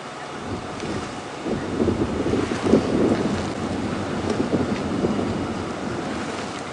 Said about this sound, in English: The wind is picking up again.